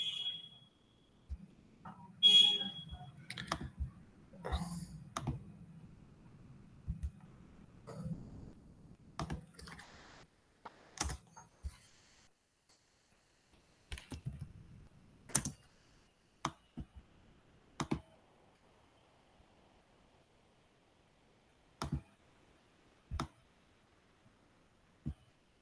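Computer mouse clicking to open a file: scattered, sharp, quiet clicks at irregular intervals, some in quick pairs, separated by long near-silent gaps, with no speech.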